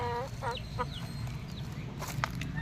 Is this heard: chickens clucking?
yes